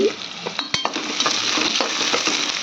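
Curry leaves and onions fry in hot oil for a vegetable pulao, a close, steady sizzle with scraping stirs and a sharp clink partway through.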